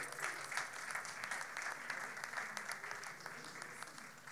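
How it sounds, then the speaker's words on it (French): Audience applause at a French-language gospel music presentation event, a dense steady clapping from a crowd that holds evenly throughout and eases slightly toward the end. "Sous vos applaudissements"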